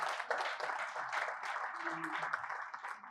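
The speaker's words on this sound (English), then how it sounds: "A round of applause for him, please." Faint, steady clapping from a lecture audience at the J9C annual lecture on tax reforms, welcoming a collective's captain, with a brief voice murmuring underneath midway.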